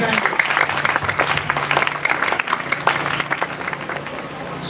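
Steady applause from a church congregation fills the whole stretch, a dense patter of many hands clapping without pause.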